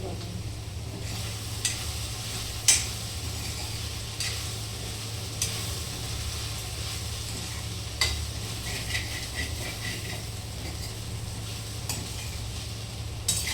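Okra (bhindi) with masala frying in a pan, a soft steady sizzle with occasional sharp clinks of a spoon stirring against the metal.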